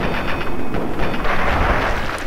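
A Fallout 3 gunshot rings out as a dense, booming blast with rumbling echoes that fill the short moment, loud and close, with no voices.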